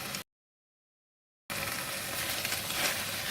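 Onion rings with a pinch of salt hit a hot pan of squid sambal with dried shrimp, breaking into a loud, steady sizzle right after a brief silence.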